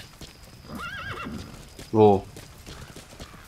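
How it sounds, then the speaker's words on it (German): A horse in the video game Metal Gear Solid 5: The Phantom Pain gives one loud, sharp whinny after a short call, with faint hoofbeats and someone talking around it. "Pferdchen rufen"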